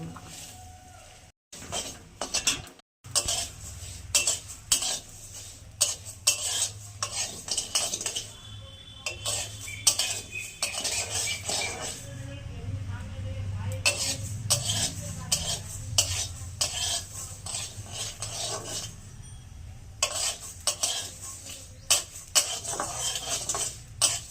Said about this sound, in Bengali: ভেজে নেবো সব মশলাগুলো